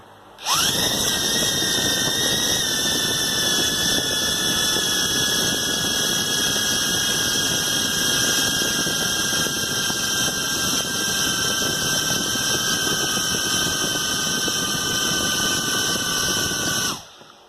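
Redpawz R011 quadcopter flying during a battery test, its motors giving a steady, high, close buzz that starts suddenly, holds for about sixteen seconds while the pitch slowly sags, then cuts out.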